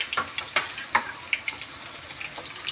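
Chicken with ginger-garlic paste frying in a kadai: a soft continuous sizzle with sharp crackles and pops at irregular intervals, close and moderately loud, with no talking.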